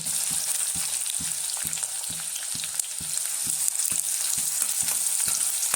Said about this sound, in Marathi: त्यात आपण लसूण हिरवी मिरची आणि आल्याची पेस्ट घालून घेऊ त्याच्यानंतर बारीक चिरलेला कांदा घालून घेऊ